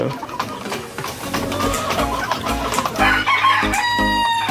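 Big and giant breed stags and pullets cluck steadily in a farm pen, with a rooster crowing near the end over the busy flock noise.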